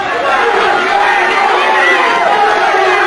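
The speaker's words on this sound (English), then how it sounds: "The crowd yelling." A wrestling arena crowd yells continuously, a dense, loud, roaring wall of voices with no breaks.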